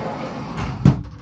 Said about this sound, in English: this is a sliding door, and I'll shut it and then I'll step back